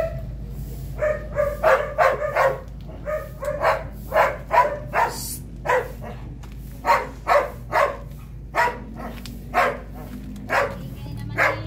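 A Doberman barks in repeated bursts throughout, fairly close and loud, with a few higher yips mixed in and a low steady background hum.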